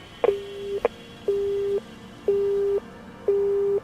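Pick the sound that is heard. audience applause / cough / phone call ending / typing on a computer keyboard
phone call ending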